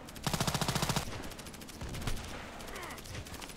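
Automatic gunfire in Contract Wars, with a loud rapid burst of evenly spaced shots followed by scattered single shots and shorter bursts from other guns in a busy firefight.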